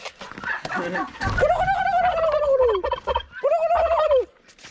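A male turkey on a farm gobbles loudly and close by, letting out two long warbling calls over faint background noise.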